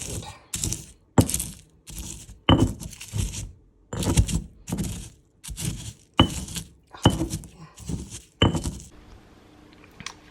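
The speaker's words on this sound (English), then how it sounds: "That garlic doesn't really want to grind." Homegrown garlic is pounded and ground for homemade hot sauce, about a dozen sharp, close thuds and cracks in an uneven beat with short pauses between. No one speaks.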